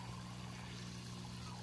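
An aerator runs at maximum in a tilapia pond, churning water in a steady, continuous bubbling wash over a low mechanical hum, close and unbroken throughout.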